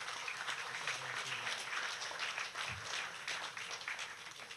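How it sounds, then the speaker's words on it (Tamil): Audience applause at a Tamil debate forum event in Kumbakonam, a dense steady wash of many hands clapping from a crowd, fairly distant and even throughout without a break. "ஸோ அவங்களுக்கு ஒரு பெரிய பலத்தை கைத்தட்டல் கொடுத்துருங்க"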